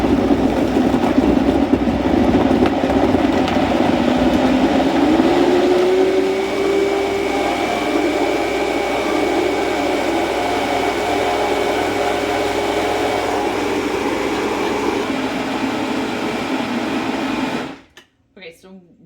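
A PSIIDAN smoothie blender runs with a steady, loud whirring motor drone and a pitch that rises early on, continuing for most of the stretch before abruptly cutting off, with people talking over it.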